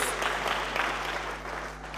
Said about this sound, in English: Let's give him a clap as he comes.